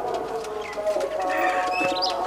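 A white-eyed female pigeon coos softly in a close, low murmuring call, with a few faint chirps and background noise around it.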